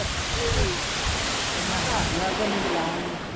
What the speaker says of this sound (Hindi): पहाड़ों के अंदर से जो झरने आ रहे हैं